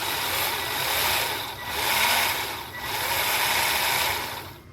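A new motor spins in an Arrma Gorgon RC car during a repair, a steady close whirring hum with soft mechanical rattle that swells and dips gently in a few slow waves, with no talk.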